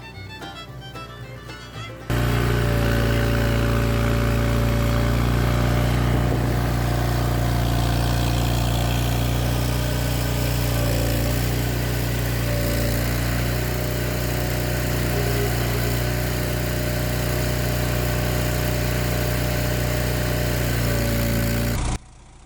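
A hydraulic rototiller driven by a Case Ingersoll tractor tills soil with a steady, droning engine hum and churning tines, loud and continuous after a brief quieter start.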